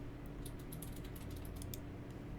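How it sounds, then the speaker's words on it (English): Rapid clicking of computer keys being typed on a keyboard, light and close, with no voices. "I can type 1275."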